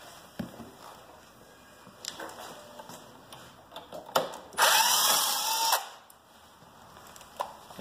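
A power drill backs out the steering stem bolts on a fat tire scooter, with a loud whirring burst of about a second near the middle, surrounded by scattered clicks and clanks of handling, no talking.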